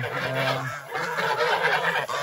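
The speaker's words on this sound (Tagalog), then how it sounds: "ito yung manok, gutom na yan." Hungry chickens, along with ducks, crowd together on a farm, a dense, continuous chorus of clucks and honking calls close by.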